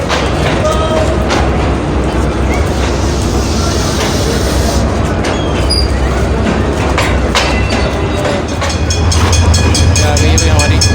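The Mehran Express passenger train rolls into a station on the Karachi to Mirpurkhas line, a loud, continuous rumble with rhythmic wheel clatter that swells again toward the end.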